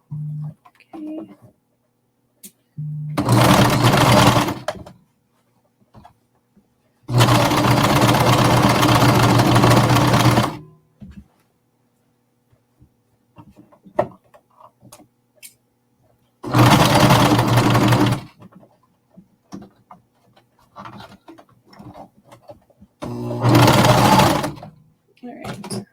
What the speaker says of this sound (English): the machine enough time to pick up those stitches